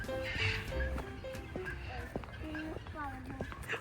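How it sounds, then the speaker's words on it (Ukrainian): Horses at a zoo whinny and snort nearby, with clip-clopping hooves, while people talk over the animal sounds. "Це коні."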